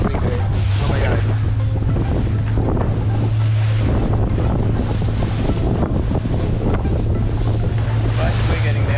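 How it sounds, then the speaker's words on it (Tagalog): Big ocean waves buffet a boat during a crossing near Puerto Galera, Mindoro, giving a loud, constant rush of surf and wind noise with a steady low engine hum throughout. "Okay, we got big waves."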